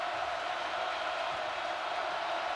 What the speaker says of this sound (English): This crowd, though, is dialed in.